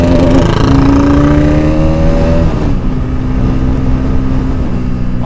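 Motorcycle engine revving hard during a road race on an Indian road, a loud sustained drone with rising pitch, then a shift to a steadier roar, close and alone.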